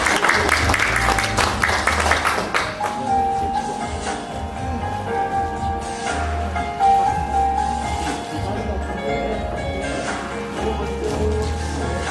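An audience in a large auditorium at a Korean award ceremony applauds, a sustained wash of clapping from many hands that holds steady and gradually thins, with a few voices heard faintly under it.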